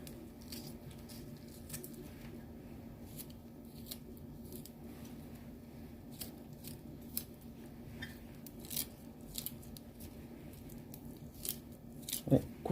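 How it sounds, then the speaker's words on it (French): Knife cutting a small onion into thin strips, a run of crisp slicing taps at an uneven pace, close and fairly soft over a constant low kitchen hum. "Couper encore en petites lamelles."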